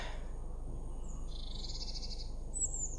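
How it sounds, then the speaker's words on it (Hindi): Birds chirp outdoors in Sweden, with a few thin high calls rising over a steady low background hum, fairly faint and with no voices. "परिंदे चहचहा रहे हैं"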